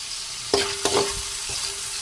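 Onion and ginger sauté in a pan, a steady close sizzle broken by a few quick stirring scrapes and clinks, with no voices.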